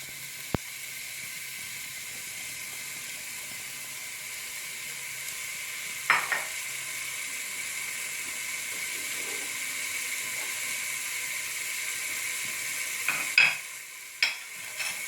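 A chopped onion sautés in a pan for a cauliflower and minced-meat dish, giving a soft, steady sizzle with a few brief clinks of stirring.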